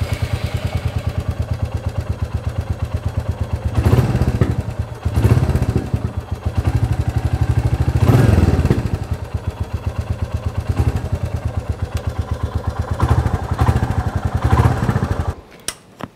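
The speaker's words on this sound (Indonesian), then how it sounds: "Tapi kita dengerin dulu suara mesinnya kali ya." A Royal Enfield Classic 350 motorcycle's single-cylinder engine chugs steadily at close range, with a few throttle blips swelling louder before it cuts off at the end.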